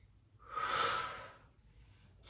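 Breathing during a Pilates knee push-up at home: one long, loud airy exhale swells and fades over about a second, followed by a quieter breath and the start of another near the end.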